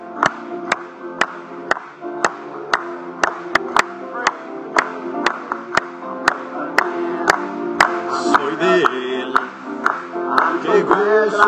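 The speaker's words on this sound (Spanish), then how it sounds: "Aplaudámosle." A church congregation claps in steady rhythm along with music during a service, each sharp clap landing on the beat, with singing and instruments swelling toward the end.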